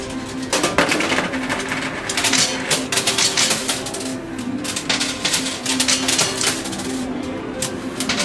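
Coins clatter and drop continuously in a Euro coin pusher arcade machine, a dense metallic jingle with many overlapping clinks and rattles at steady loudness throughout.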